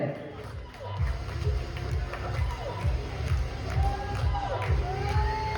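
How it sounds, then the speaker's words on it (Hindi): An audience at a one-day dance competition claps and cheers for a second-prize winner, with crowd noise and excited shouts over a low, thumping background. "जोरदार तालियां इनके लिए।"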